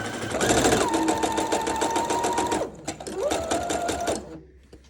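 Domestic sewing machine stitching through fabric in two steady bursts, loud and close, with a brief pause between runs and a soft stop at the end; no talking.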